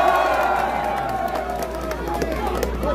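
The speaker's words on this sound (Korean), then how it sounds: "다시 한번 힘찬 박수 부탁드리겠습니다." Crowd at an outdoor presidential election campaign rally in Seosan, South Korea claps and cheers, a busy mix of applause, whoops and hubbub with voices mixed in and a low steady hum underneath.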